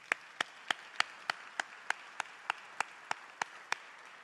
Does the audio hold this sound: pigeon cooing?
no